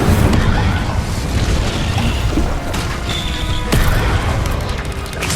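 Incendio fire spell cast in the Hogwarts Legacy video game: a dense, loud, continuous roar with booming blasts, crackling bursts and sharp flares sustained throughout, no voices standing out.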